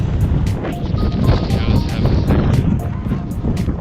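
Strong, freezing wet wind on Iceland's Laugavegur hiking trail buffets the microphone with a constant low roar and rumble, steady and close throughout.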